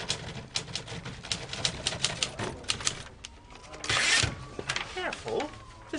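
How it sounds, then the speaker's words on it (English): An antique typewriter being touch-typed, with rapid, close mechanical key strikes in an irregular rhythm, a carriage ratchet and a brief louder burst near the end, and a voice speaking over part of it. "Hey, you can touch type."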